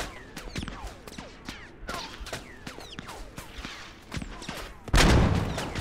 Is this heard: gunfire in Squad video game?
yes